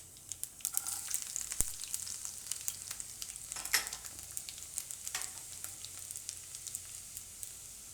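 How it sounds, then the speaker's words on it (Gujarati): Cumin and garlic sizzling in hot oil, a steady crackling fry with dense bright spitting pops, moderately close and continuous, with a few sharper clicks of stirring. "તો તેલ ગરમ થઈ ગયું છે, એમાં આપણે પહેલાં જીરું નાખીશું"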